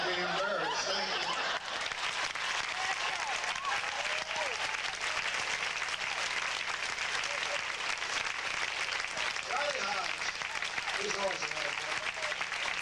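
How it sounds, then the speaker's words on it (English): A live audience at a 1994 Memphis rock and roll show applauds steadily throughout, a dense, loud wash of many clapping hands with scattered chuckles and some faint voices mixed in. "give a nice big round of applause"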